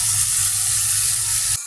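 Onions sizzling in a hot pan for prawn bhuna, a loud steady crackling hiss that stops abruptly near the end.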